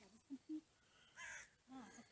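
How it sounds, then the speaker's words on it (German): Ravens give a few short caws, two quick calls near the start and a rougher burst later, fairly faint and distant against a quiet background. "Raben oder so."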